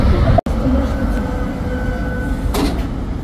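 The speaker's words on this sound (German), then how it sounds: "Die Straßenbahn." Tram pulling into a stop in Würzburg, Germany: a continuous rolling rumble with a faint electric whine, a sharp clunk near the start and a hissing door-like burst later.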